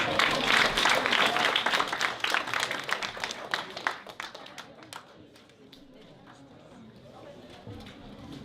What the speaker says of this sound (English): Please give him a round of applause, Mr. Orville Tadle.